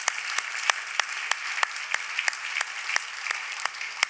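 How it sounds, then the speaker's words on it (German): A live awards-show audience applauds the backstage crew, a steady wash of many hands clapping with sharp individual claps popping out at a fairly regular pace, fairly distant and without speech. "dann dürft ihr jetzt klatschen für all die hinter den Kulissen"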